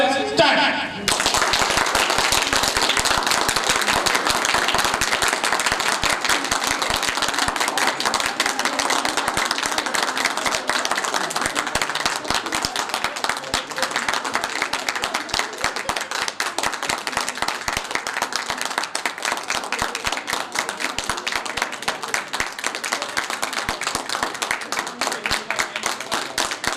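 A group in a leadership training session claps hard in a timed contest, a dense, loud and continuous burst of many hands that runs without a break for almost half a minute.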